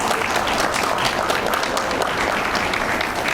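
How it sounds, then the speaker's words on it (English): A dense, steady round of applause from a crowd at a Chicago Police Department swearing-in ceremony, clapping for four new recruits; loud and continuous throughout, with no pauses. "another round of applause for our 4 new recruits."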